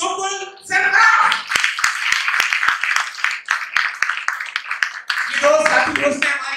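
Applause rings out at a Defence Day ceremony in Hyderabad, a burst of crowd clapping with sharp, scattered claps, while a voice speaks over it at the start and again near the end.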